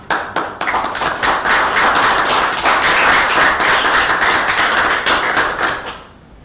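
Applause at a Lindsborg city council meeting honoring council members, a dense roomful of clapping hands that starts with a few scattered claps, swells to a steady loud patter, then fades out.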